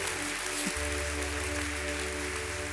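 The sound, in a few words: congregation applauding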